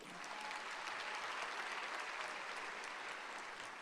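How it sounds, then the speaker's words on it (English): Steady, full audience applause honoring a high school chef named educator of the year at a teacher awards event, continuous clapping from a large crowd with no voices over it. "give a little extra applause for Chef Bonanno"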